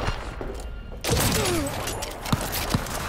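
Cyberpunk 2077 combat: a sharp, dense burst of gunfire cuts in partway through, followed by a sustained rumble of action and a couple of brief, sharp hits near the end.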